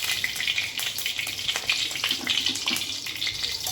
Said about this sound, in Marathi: इथे आपण तूप गरम करून घेतलेलं आहे